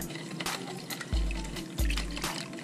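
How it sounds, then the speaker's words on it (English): Warm milk being stirred with sugar and yeast, soft liquid swishes and a couple of low sloshing strokes, close and quiet with no talk. "I'm gonna give it just a little stir."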